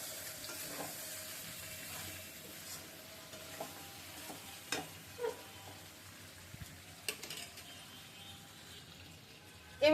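Chicken curry frying in a pan, a soft continuous sizzle with occasional stirring clinks and scrapes, close and fairly quiet, with no talking.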